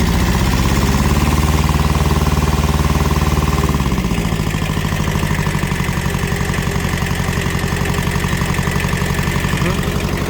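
A small Japanese Kubota B7000 tractor engine runs steadily up close, a loud rough mid-pitched chug that shifts to a faster, even idle partway through, with no pauses.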